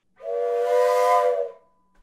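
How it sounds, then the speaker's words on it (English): Sound-effect train whistle from a trap drummer's kit, a single breathy, steam-like chordal blast lasting just over a second, loud and close, alone without talk. "And then the train whistle."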